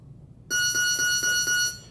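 A loud electronic buzzer sounds for just over a second, pulsing rapidly with a harsh, tonal ring.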